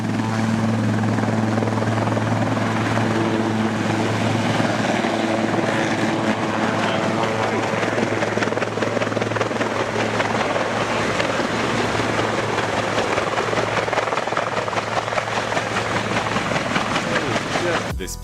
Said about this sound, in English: This helicopter took off from a road and accidentally hit a power line.